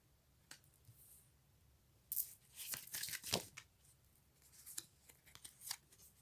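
Tarot-style cards being handled and drawn for a card reading, with quiet scattered rustles, flicks and papery snaps that cluster in a busier burst midway, close and faint, with no talk.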